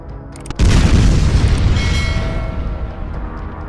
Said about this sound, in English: A large explosion then follows as the fire quickly flares up.